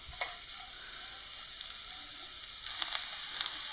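Sliced beans, carrot, capsicum and cabbage stir-fry in a hot pan with a bright, steady hiss, broken by a few sharp clinks of the stirring utensil that grow busier toward the end.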